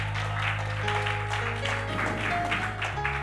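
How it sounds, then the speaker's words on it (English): Church congregation claps hands in praise during a sermon, a continuous blur of applause layered over sustained organ or keyboard chords that shift pitch. "Give them another hand clap of praise."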